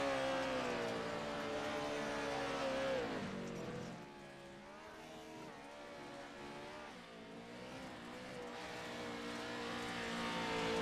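Off-road race vehicles at a Montana Off-Road Series championship night scream at wide open throttle, with high, close engine howls rising and falling as they shift and pass, dipping briefly before surging back.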